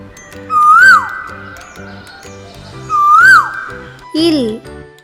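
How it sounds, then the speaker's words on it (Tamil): A koel bird calls twice in rising, swooping whistles over steady rhythmic background music, followed by a short burst of another bird-like cry near the end. "குயில்."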